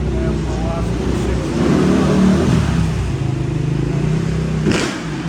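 A 1977 360 VB vintage motorcycle engine, a two-stroke bike at a Daytona vintage racing event, revving steadily with a swell in the middle, close by, with people talking over it.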